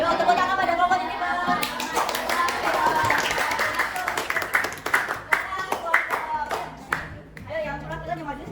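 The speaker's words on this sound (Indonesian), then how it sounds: "Yuk, tepuk tangan pada kelompok Jennifer" Children in a sixth-grade classroom clap for a group that has just finished presenting, scattered hand claps building into brief applause, mixed with chatter and voices.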